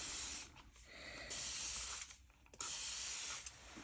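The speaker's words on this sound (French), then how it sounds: "on va prendre une bouteille d'eau pour venir humidifier nos peintures" A spray bottle mists water onto watercolour paints in several close, hissing bursts separated by short gaps, bright and airy with no voices.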